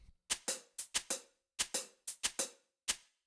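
Shakers played together in a drum pattern for a recreation of a song, giving about ten crisp, close rattling strokes in a syncopated groove with short silent gaps between them.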